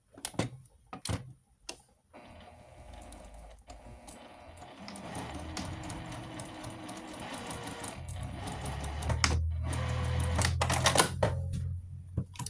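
A sewing machine stitches a homemade table mat, starting with a few clicks and handling knocks before a steady whirring run that builds louder toward the end, close by with no speech.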